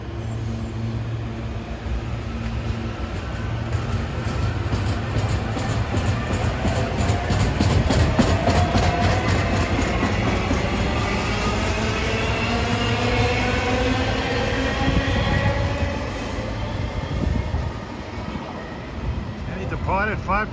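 SEPTA Silverliner IV commuter train arriving at Levittown Station, headed for Trenton: a steady, loud rumble with rhythmic clickety-clack of wheels on rail joints and a low motor hum, continuing throughout.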